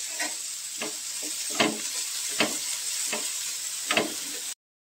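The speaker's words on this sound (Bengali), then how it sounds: "ক্যাপসিকাম আর পেঁয়াজটা মোটামুটি হালকা করে ভাজা হয়ে গেছে" Capsicum and onion fry in a pan with a steady close sizzle, broken by several sharp scraping stirs at irregular intervals, before the sound cuts off abruptly.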